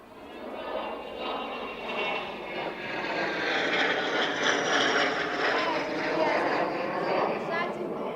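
Airshow aircraft making a low, dirty pass with landing gear down, its engine roar loud and sustained throughout, swelling slightly as it passes, with a commentator speaking over the noise.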